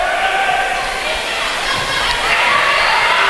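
A crowd at a St. Mary's University volleyball match against UAFS cheers steadily in a gym, a broad roar of voices that swells slightly near the end, loud and close, with no clear single voice on top.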